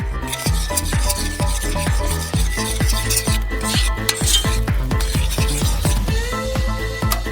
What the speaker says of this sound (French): On mélange le tout et c'est presque prêt.